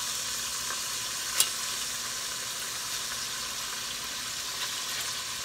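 Beef sears in a stew pot, a steady broad sizzle with one sharp pop near the start, even and fairly close with no voices.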